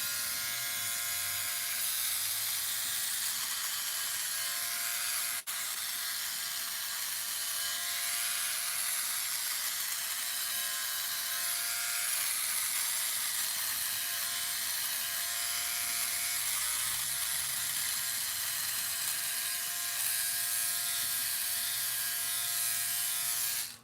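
A OneBlade electric razor buzzes steadily and close through a dry shave, a constant high-pitched whir lasting the whole stretch with no talking.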